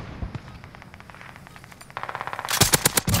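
KGM-40 automatic weapon firing in Call of Duty: Modern Warfare, a rapid string of loud gunshots that grows into a denser, sharper burst near the end, over game background noise.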